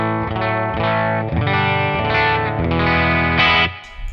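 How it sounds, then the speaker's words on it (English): Electric guitar chords ring out one after another, loud and alone, each soaked in a splashy, bright spring reverb tail from a NUX Cerberus pedal. "It's just a spring reverb."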